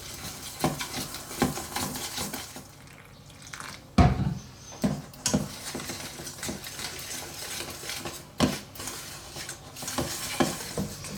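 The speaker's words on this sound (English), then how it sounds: "to stir it together" Fish batter mix being stirred in a bowl, irregular wet scraping and sloshing strokes with occasional sharper knocks of the utensil against the bowl, close and moderately loud with no talking.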